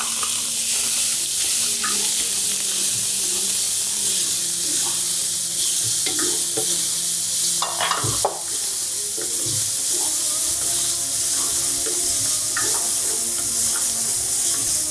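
Chopped onions fry in olive oil for a Moroccan beef tagine, giving a steady close sizzle with scattered clinks and scraping from stirring.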